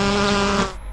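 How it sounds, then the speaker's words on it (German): Buzzing bees in the children's video game Zilly die Zauberin, a steady, loud electronic drone with layered harmonic hum that holds evenly for about a second and then thins out. "Das sollen Bienen sein?"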